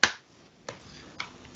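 A single sharp hand clap, attempted as a remote high five in a distributed programming session, followed by a few fainter claps answering with a lag over a quiet background.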